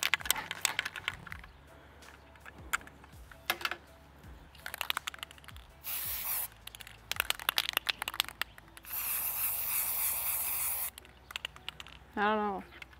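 Bursts of Rust-Oleum spray paint hiss in short blasts and one longer sustained spray, sputtering as the nozzle is not fully pressed, mixed with clicks, handling clatter and people talking nearby.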